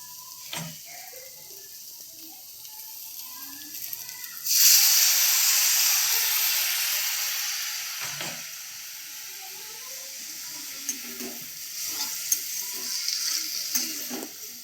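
A little water poured into a hot frying pan of cooking food bursts into a loud, hissing sizzle that slowly settles to a steady simmering crackle, with a few light utensil taps.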